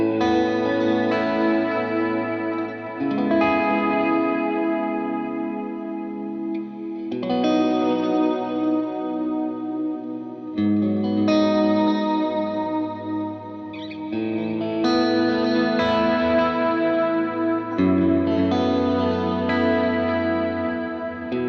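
Sustained electric guitar chords through an HX Stomp ring out with a washy delay and reverb tail, each strum blooming and echoing before the next one comes in.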